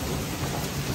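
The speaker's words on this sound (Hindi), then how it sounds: "बहुत देर से बिजली टिमटी मारी थी, बड़ी खतरनाक वाली बिजली थी भाई, गड़गड़ गड़गड़ गड़गड़ गड़गड़" A heavy thunderstorm at a jungle resort in Bandipur, India, delivers a dense, constant roar of pouring rain with thunder rumbling underneath. No one speaks.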